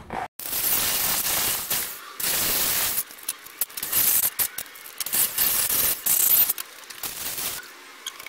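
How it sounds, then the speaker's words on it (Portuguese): Harsh grinding bursts from a drill boring holes into a washer on a Volkswagen Golf MK4 steering box, several loud on-off bursts with short pauses between them, close to the microphone. "A gente vai furar a arruela."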